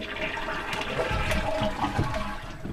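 A toilet at a camp flushing in a steady, loud rush of swirling water that lasts throughout, with no one talking.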